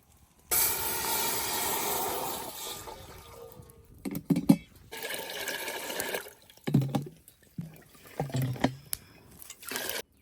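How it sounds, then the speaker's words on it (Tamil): Water pours from a jug into a cooking pot for rice porridge, a continuous rush that breaks into uneven glugs and sloshes, close by. "ஒரு கிலோ அரிசிக்கு பத்து சொம்பு தண்ணி ஊற்றிக்கலாம்"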